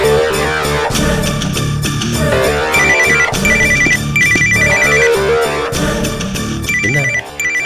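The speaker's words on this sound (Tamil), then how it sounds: "என்ன Chennai collector Archana madam phone பண்றாங்க?" A mobile phone ringtone for an incoming call plays loud and continuous in a Tamil TV serial scene, a melodic electronic tune with repeating bright chimes.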